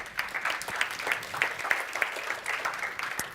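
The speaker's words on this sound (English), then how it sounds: "Please give her a round of applause." A small audience at a practice-marketing talk claps, a modest, fairly quiet patter of individual hand claps carrying on steadily for a few seconds.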